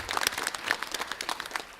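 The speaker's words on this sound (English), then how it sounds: "please applaud" Audience applause at a school board of education meeting honoring students, a short burst of scattered hand clapping that is moderately loud and fairly close.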